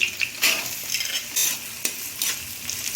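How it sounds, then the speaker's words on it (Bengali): Onions go into a hot pan with boiled noodles and lightly fried cauliflower for egg chowmein, giving a close, steady sizzle broken by stirring scrapes and clanks. "এবার আমি এর মধ্যে দেব পেঁয়াজগুলো"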